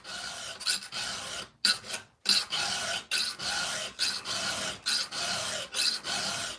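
Hand file rasping across chainsaw chain teeth, a steady series of about a dozen close, loud strokes with brief pauses between them.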